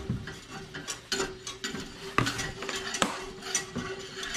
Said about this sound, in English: while Roux is stirring it up